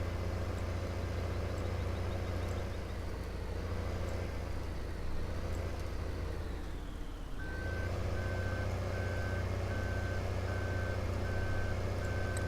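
A Peterbilt truck in Farming Simulator 2015 drones with a constant heavy engine rumble; about halfway through, a steady series of evenly spaced reversing beeps starts and continues to the end.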